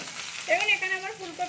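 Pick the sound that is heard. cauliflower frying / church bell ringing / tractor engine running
cauliflower frying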